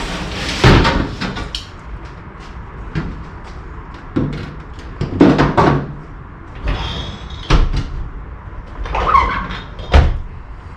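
A pair of loose doors for a classic Mini Clubman Estate are lifted and handled, producing a run of close, irregular thuds, knocks and clunks of metal panels with brief scraping between them.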